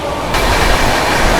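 A WAP7 electric locomotive hauls a superfast express at top speed, giving a loud, steady roar of rushing wheels and rail noise with a faint clickety-clack, close and continuous throughout.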